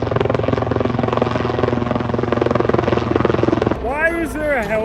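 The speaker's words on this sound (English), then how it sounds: "Why is there a helicopter?" A helicopter hovers overhead with loud rapid rhythmic rotor chopping, then the sound gives way as a person starts talking.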